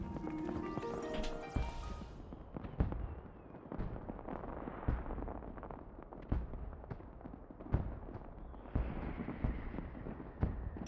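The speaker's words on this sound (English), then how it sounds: "And he's gonna miss the fireworks." Video game fireworks, with a rapid crackling burst at the start, then scattered thuds and pops at an uneven pace and a low rumble underneath, fairly quiet overall.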